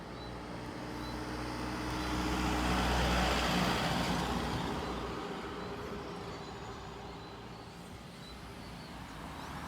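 Road traffic on Gun Hill in St. George, Barbados: a heavy vehicle rumbles past close by, swelling loud then fading, with engine noise continuing steadily afterward and no voices.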